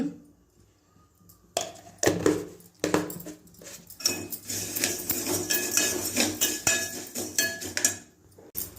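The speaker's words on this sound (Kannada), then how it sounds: "ಫಸ್ಟು ಸೇಮಿಯನ್ ಹುರ್ಕೊಳ್ಳೋಣ ತುಪ್ಪ ಹಾಕಿ ಹುರ್ಕೊಳ್ಳೋಣ" A spoon scrapes and clinks against a metal pan while vermicelli roasts in ghee, with irregular close clatter and rattling over a soft, continuous frying hiss.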